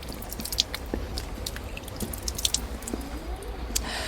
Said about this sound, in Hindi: अब हमें नाक में पानी डालना है।